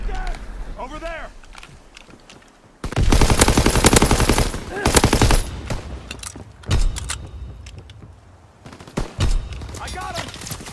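Rapid automatic gunfire from Call of Duty, with loud sustained bursts cutting in around the middle, then shorter volleys and isolated shots, and some talk mixed in.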